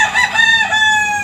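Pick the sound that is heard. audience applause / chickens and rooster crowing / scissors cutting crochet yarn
chickens and rooster crowing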